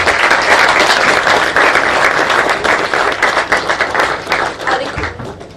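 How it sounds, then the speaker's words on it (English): A large audience gives a sustained, loud round of applause for the guests on the dais at the eBAJA SAEINDIA 2023 inauguration session, dense clapping that holds steady and eases slightly near the end. "I now request everybody to give a huge round of applause to all our guests who are on the dais"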